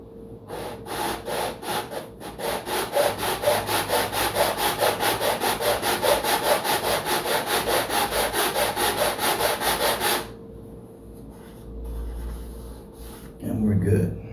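Rhythmic back-and-forth sanding of a giant-scale P-47 Razorback model's wooden horizontal stabilizer with 120-grit paper, steady rasping strokes for about ten seconds, then a quieter pause with faint handling noise and a brief final scrape.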